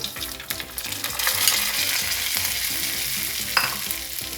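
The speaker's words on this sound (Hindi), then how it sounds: "सेवइयों को हम तकरीबन 5 मिनट के लिए इसमें भून लेंगे" Sweet vermicelli roasts in hot ghee with cardamom pods in a pan, giving a continuous close sizzle with occasional stirring scrapes and a sharp clink, heard under soft background music.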